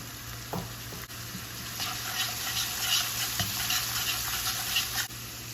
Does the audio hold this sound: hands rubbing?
no